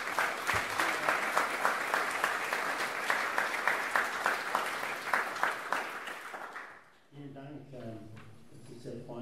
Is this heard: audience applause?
yes